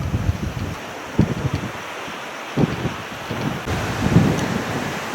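Torrential rain pours during a strong storm in Coonamble, a dense steady hiss with gusty wind noise and low rumbling bursts of thunder rolling through.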